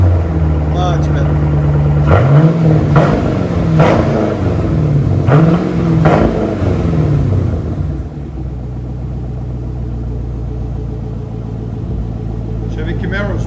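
A 2013 Chevy Camaro SS 6.2L V8 with straight-pipe dual exhaust and 4-inch tips revs loudly several times in quick rising bursts, then settles into a deep, steady idle rumble while people talk.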